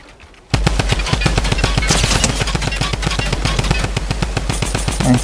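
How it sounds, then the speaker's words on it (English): Rapid automatic gunfire in Fortnite Remix Chapter 2 rattles out in a long, loud, evenly spaced burst of close shots, starting abruptly after a brief quiet moment, with no talk. "then we can try and shoot that player"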